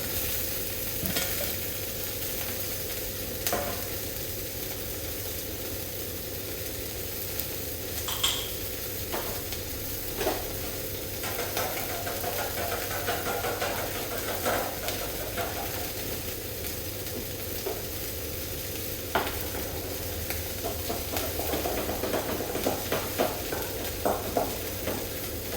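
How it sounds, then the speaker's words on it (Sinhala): Spaghetti is tossed and stirred in a pan with hot pasta water for carbonara, making a long steady sizzle dotted with scattered scraping clinks of a utensil against the pan. "ඊට පස්සේ අපේ ස්පැගටි එක අපි දා ගන්නවා."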